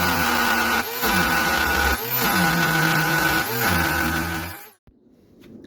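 A power saw cuts the metal weapon arm of a fighting robot in half, a loud, steady whining grind with three brief dips as the blade shifts, then it cuts out abruptly to quiet.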